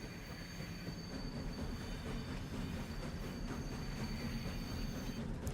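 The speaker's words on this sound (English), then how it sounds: "It's a European train" European passenger train in Farming Simulator 25 rolling steadily along the track, a continuous loud rumble of wheels and carriage with faint high squeal tones throughout, no talking.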